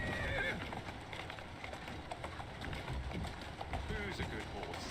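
A horse in the game Assassin's Creed Syndicate whinnies loudly and its hooves clip-clop steadily on the street beneath, with a player talking over the galloping.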